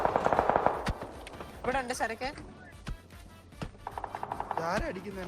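PUBG PC match gunfire cracks in sharp, scattered bursts, some rapid and clustered, heard beneath excited shouting voices talking over the shots.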